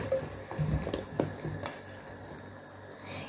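Champignon mushrooms drop into a pan of already fried onion and start frying, a soft sizzle with a few sharp clinks and scrapes of stirring in the first two seconds, then a quieter steady hiss.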